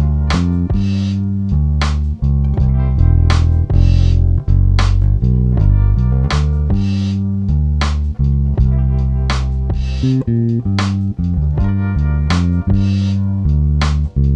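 A Jazz bass and a P bass take turns playing the same bass line, deep plucked notes in a steady rhythm, loud and close with no talking.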